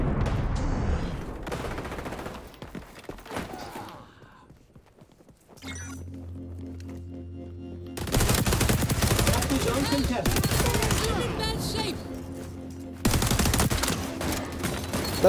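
Gunfire in the online shooter XDefiant comes as bursts of rapid shots and blasts, with quieter footstep-like stretches between loud volleys and players talking over parts of the action.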